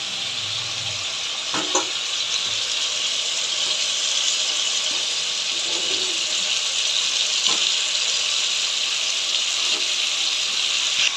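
Fried potatoes tip into a pan of cumin, coriander, chili and ginger paste for vegetarian pulao, setting off a steady hissing sizzle with a few brief clatters of utensil on the pan.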